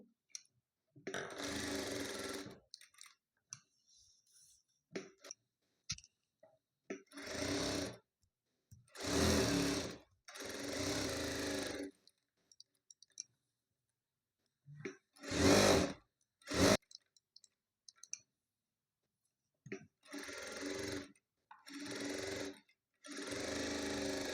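A sewing machine stitches the lining into an Aari-work blouse, running in repeated bursts of a few seconds each, separated by short pauses, close and steady, with no talking.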